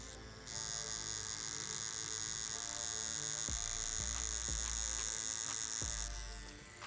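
A tattoo machine buzzes aggressively while lining with an 18 needle, a steady close electric drone that lasts several seconds, with small dips in pitch as it works and no talk over it.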